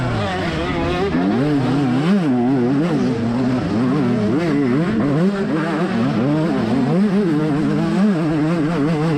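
Off-road dirt bikes racing in a GNCC event at Burr Oak, a loud continuous engine drone with wavering revs rising and falling throughout, close and steady without pause.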